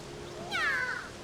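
A single short, high cat meow from the Tears of the Kingdom video game, a brief rising-then-falling cry heard alone over a quiet background.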